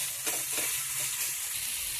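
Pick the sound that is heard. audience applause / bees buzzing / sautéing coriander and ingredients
sautéing coriander and ingredients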